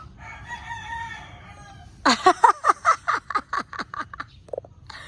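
A bantam chicken crows close by, a rapid series of sharp repeated calls after a quieter stretch of low background hum, ending with a couple of short clucks.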